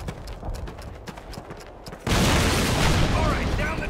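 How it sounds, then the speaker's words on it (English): A cannon fires in the World War II shooter Call of Duty, a sudden loud, heavy blast that breaks in midway and leaves a sustained rumbling roar, following a stretch of sharp clicks and low background noise. "This cannon's about to go boom."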